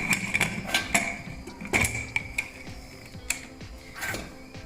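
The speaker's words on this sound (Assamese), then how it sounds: "এতিয়া মই প্ৰেছাৰ কুকাৰৰ খপটো মাৰি দিছোঁ।" A pressure cooker lid is fitted and locked shut with a series of close metallic clicks and ratcheting clanks, a few sharp knocks spread over several seconds.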